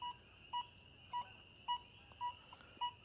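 Six short, clear beeps from an XP Deus II metal detector sound off a silver Mercury dime, evenly spaced about half a second apart over a steady faint hum, with no talking.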